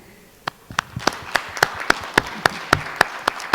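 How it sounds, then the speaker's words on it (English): Applause for conference speakers at a session of the 2020 GCCW, heard as a few sparse, distinct claps building into a regular rhythm of sharp, fairly close hand claps, seemingly from a small number of people. "let's have a round of applause for our speakers who are joining us"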